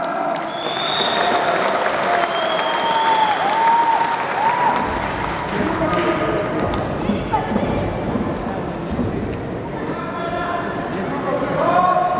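A crowd of spectators at a sports tournament applauds in a dense, continuous wash of clapping, with shouts and an announcer's voice rising over it.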